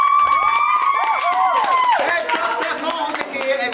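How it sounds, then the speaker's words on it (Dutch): Children clap and cheer for the winner of a group drawing contest at a playground club, with whoops and high whistling shouts riding over the clapping before it thins out. "Ik zou zeggen, geef even een groot applaus."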